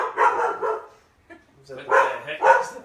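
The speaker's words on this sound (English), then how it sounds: "That's my dog's barking" A pet dog barks indoors in a few close, loud bursts, with people talking around the barks.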